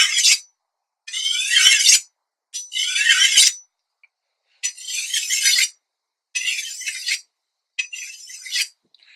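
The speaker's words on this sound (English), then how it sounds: "you use it in a very similar manner to your bench stones, except you're moving the stone rather than moving the blade" A fine-grit natural pebble stone is drawn along a steel blade in six separate strokes, each a bright, close, squeaky scraping rasp with silent gaps between.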